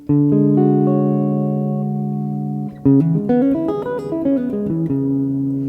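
Guitar opens with a ringing sustained chord, then a quick flurry of single notes in D Lydian climbs and falls before settling on a held low note.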